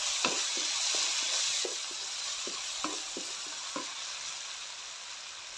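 Onions and tomatoes fry in a pan as a loud, continuous sizzle, broken by regular scraping and tapping from stirring throughout.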